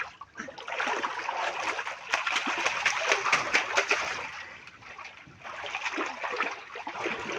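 A small child splashing and playing with water in a swimming pool, steady close sloshing and spattering with a brief lull midway, no clear talk.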